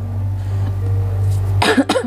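A low steady hum fills the background, then a couple of short coughs break in near the end, close and fairly loud.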